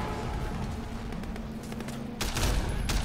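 Gunfire crackles through a gunfight in the video game Sleeping Dogs, a dense run of rapid shots that swells louder with sharp bursts near the end, with no speech.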